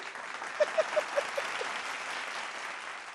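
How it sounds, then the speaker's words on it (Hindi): Audience applause at a Hindi comedy show, a steady wash of clapping from a crowd, with a few sharper claps standing out near the start before the sound settles into even, sustained applause. "तालियां।"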